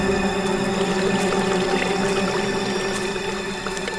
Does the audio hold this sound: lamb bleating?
no